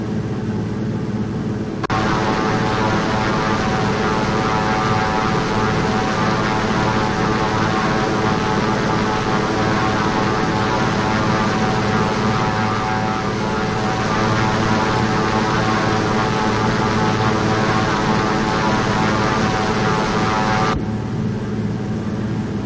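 A steady, loud drone from the propeller engine of a Thranda Beaver floatplane in the X-Plane 11 flight simulator, flying over Scotland, holding an even tone throughout with no talk.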